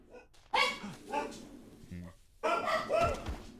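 A dog barks a few times in short separated bursts, fairly close, with a brief higher squeak between them and some faint background noise.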